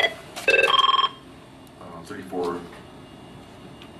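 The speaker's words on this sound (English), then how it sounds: "Would you like to make a phone call?" A telephone rings in a detention facility booking area during an outgoing call, a short burst of bright ringing near the start followed by voices talking.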